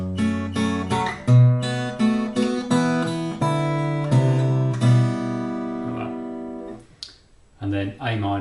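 A guitar plays the chord sequence of a song, strummed chords interleaved with picked bass notes and a small bass rundown, clear and close, ending in a brief pause before a few more notes.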